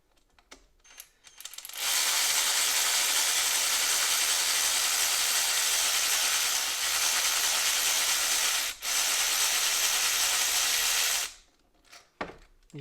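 A cordless ratchet spins out ignition coil bolts on a 2.0-litre MK4 Volkswagen, one steady buzzing whir running about nine seconds with a brief stutter midway, loud and close, with small clicks and handling noises before and after.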